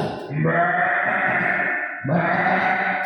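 A storyteller's voice imitates a sheep bleating during a children's storytelling workshop, two long, wavering, nasal bleats close and loud, one after the other with a short break between.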